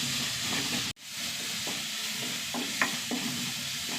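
Chopped onion and two green chillies sautéing in a pan, a steady close sizzle with the scrape of a spatula stirring several times and one sharp knock near the start.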